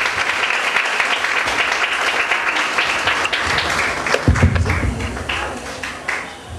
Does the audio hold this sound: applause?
yes